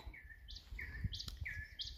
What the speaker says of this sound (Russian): Иногда включается в дуэт кукушка, ее сменяет вяхи.